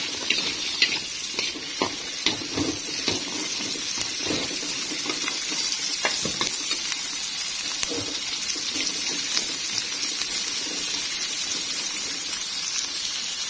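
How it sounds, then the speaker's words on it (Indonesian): Garlic, then shallots, sautéing in a pan for a spicy sambal, a soft, quiet sizzle broken by scattered scraping taps of a spatula stirring, with no talking. "Tumis bawang putihnya dulu. Terus bawang merah."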